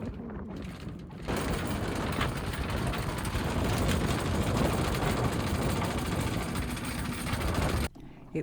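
A sailboat's engine motors hard astern against its anchor in strong wind, a steady loud mechanical drone lasting about six seconds with no talk over it.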